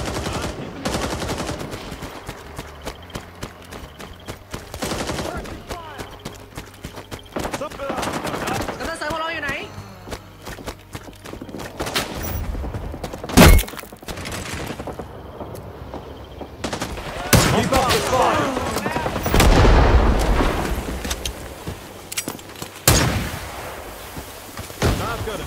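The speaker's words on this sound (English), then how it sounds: "Contact! Enemy machine gunner!" Machine gun fire in a Vietnam War battle in the game Rising Storm 2: Vietnam, with bursts of rapid automatic shots and sharp single gunshots, loud and close, mixed with distant fire and shouted voices.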